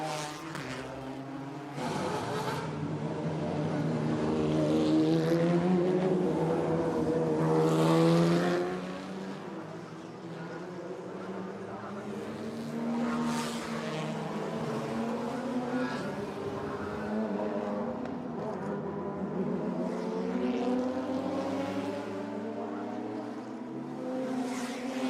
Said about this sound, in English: So the cars are rolling